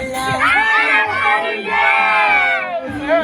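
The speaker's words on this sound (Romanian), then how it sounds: "Strigăm tare!" A crowd of carol singers at Izverna shouting loudly together, excited voices and children's yells rising in bursts with brief dips, close and energetic.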